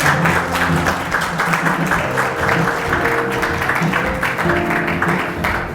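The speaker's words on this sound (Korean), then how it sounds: "여러분 큰 박수를 부탁드리겠습니다." An audience at a Gangwon Province digital platform progress report meeting claps steadily for several seconds, with sustained tones of background music running under the applause.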